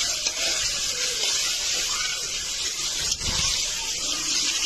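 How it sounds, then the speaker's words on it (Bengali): Potatoes fry in hot oil in a wok, a steady, bright sizzle that holds evenly throughout, close and loud, with a brief stir or clatter partway through. "এখন আমি আলুগুলো ভাজা করে নিব।"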